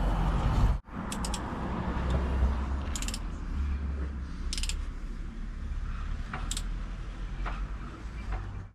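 A wrench turning the crankshaft bolt on an engine to find top dead center, with steady mechanical creaking and ratcheting clicks in several short bursts over a continuous low rumble, close by.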